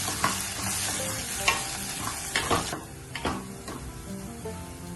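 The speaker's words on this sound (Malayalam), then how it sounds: "സബോള ഗോൾഡൻ കളറായി വരുമ്പോൾ കറിവേപ്പില ചേർത്ത് നന്നായി ഇളക്കി കൊടുക്കാം." Onions and curry leaves frying in a pan while being stirred, giving a steady close sizzle broken by scraping, knocking strokes of the spoon, with no voices.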